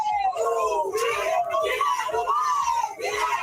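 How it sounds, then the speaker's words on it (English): People on a boat shout and scream during a fight, with overlapping agitated voices and wailing cries forming a continuous, loud crowd din. "Now you hear the boat people yelling"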